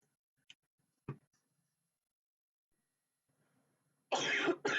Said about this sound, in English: I was trying to pause it so I didn't have to cough in your ear